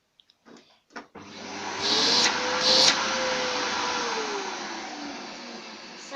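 A Samsung vacuum cleaner switches on after a few clicks and runs with a steady, loud whirring roar and a rising motor whine, continuing alone to the end.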